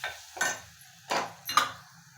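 Tomato frying in a pan while a utensil stirs it, three quiet scraping, clinking strokes against the pan over a faint background hum, with no voices.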